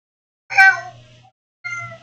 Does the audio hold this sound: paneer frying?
no